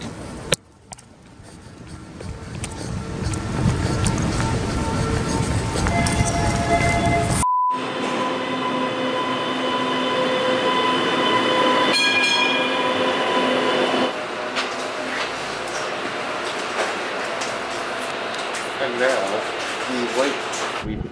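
Boston 'T' subway train noise at a station, with rumbling cars, squealing wheels and beeping signals, continuous and loud, with people talking in the background.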